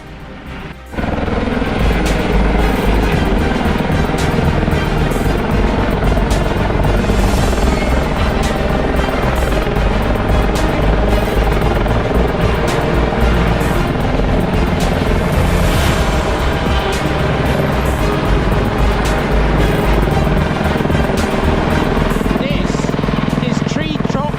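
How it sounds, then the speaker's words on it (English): A helicopter roars steadily overhead, loud and close, cutting treetops along power lines in Hagfors, Sweden, its rotor thrum continuous throughout after a brief quieter opening. "helicopter cutting"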